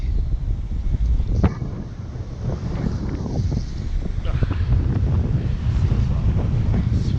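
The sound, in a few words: strong wind on beach, microphone wind noise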